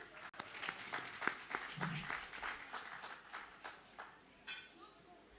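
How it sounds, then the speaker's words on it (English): An audience at an outdoor housing handover ceremony in Shrewsbury, Petersfield, applauds performers from Petersfield High School, with scattered claps that rise and fall across the clip. "Join me in once again applauding the performers from Petersfield High School."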